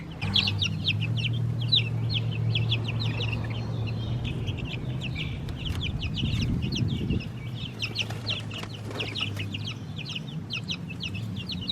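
Young chickens newly moved from a barn trough onto open grass cluck and chirp in rapid, repeated bursts, a small flock close by over a steady low hum.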